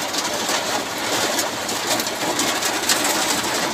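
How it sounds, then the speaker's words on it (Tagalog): Heavy rain pounding the roof of a truck during a typhoon, a dense, steady hiss of drumming drops, close and fairly loud, continuous throughout with no talk. "Grabe, ang lakas ng ulan, no?"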